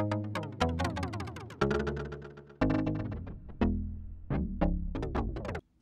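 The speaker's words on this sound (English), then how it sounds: "When you adjust the time knob live, you will hear a pitch shift from a tape-style delay effect." Sparse synth or plucked notes run through a Chronoblob2 tape-style delay while its time knob is turned, the repeating echoes audibly warping in pitch; a handful of decaying phrases, moderately quiet with no talking.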